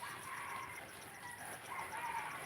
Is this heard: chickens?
yes